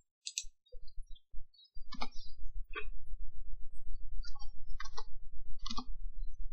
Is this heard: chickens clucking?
no